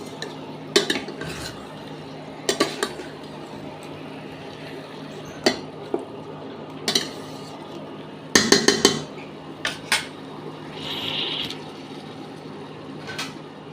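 Chicken curry marinated with turmeric, mustard oil and chilli powder sautéed in a pan, with periodic sharp clusters of metal spatula scrapes and clanks over a low sizzling bed, loud and close, no speech.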